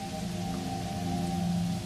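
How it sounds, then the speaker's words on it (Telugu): Steady rain patters in a jungle scene from an animated story, an even, continuous wash of drops with a faint low hum beneath and no voices. "వర్షం ఆగకుండా కురిసింది."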